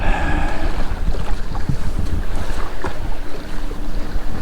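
Wind gusts steadily over Watts Bar Lake on the Tennessee River during a kayaking trip. The rough, constant rush buffets the microphone up close, with water lapping underneath.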